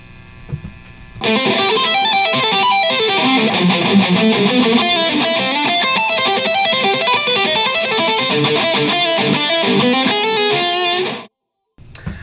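Electric guitar played through two Roger Limoges Pro Tone effects pedals, a thick, layered and saturated tone strumming steadily for about ten seconds before cutting off abruptly.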